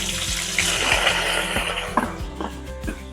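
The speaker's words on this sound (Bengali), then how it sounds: "আমাদের তেল গরম হয়ে গেছে, এখন আমি পেঁয়াজ কুচিটা দিয়ে দিচ্ছি।" Chopped onions dropped into hot oil for a fish curry, a close hissing sizzle that bursts up at first and then settles, with a few light clinks of utensils.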